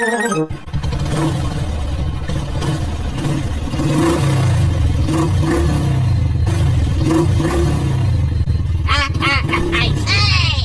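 A motorcycle engine roars loudly and continuously, rumbling and revving throughout with some clatter and muffled voices mixed in.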